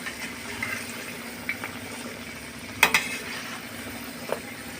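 Gujiya frying in ghee while held down with a ladle, producing a soft, continuous bubbling sizzle with a few sharper metallic clinks and scrapes of the ladle breaking through.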